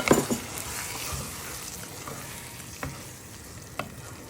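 Chili con carne sauce mixed with hot water is stirred in a pan, making a soft bubbling sizzle with scraping spoon strokes and a couple of light clinks.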